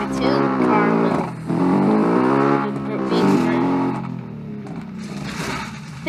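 Rally car engine in Automation/BeamNG held at full throttle, a loud sustained harmonic drone that holds steady, dips briefly, then surges again, with talk running over it.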